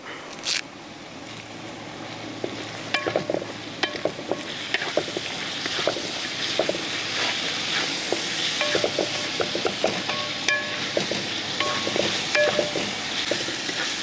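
Curry leaves dropped into half-sautéed onions in a pan for vegetable biryani: a steady crackling sizzle with scattered pops and the scrape of stirring, no talk.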